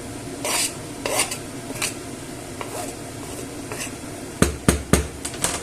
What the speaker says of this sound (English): So once the pan has heated up, I will add in the garlic.